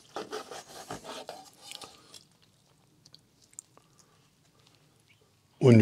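Knife slicing through a rested, grilled whole Argentinian beef rump steak, with close rasping cutting strokes for about two seconds, then near silence with a few small clicks, ending in a sudden loud thump.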